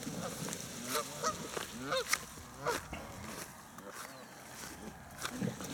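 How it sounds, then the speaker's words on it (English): Flock of Canada geese with more than thirty goslings honking in repeated bursts, some calls close and loud and others softer in the background, with outdoor ambience and occasional speech mixed in. "There's over 30 goslings, put it that way."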